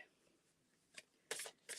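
Playing cards being shuffled at close range: a brief riffle at about one second, then two louder crisp bursts of flicking cards near the end, over a quiet room.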